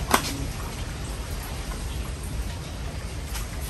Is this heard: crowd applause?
no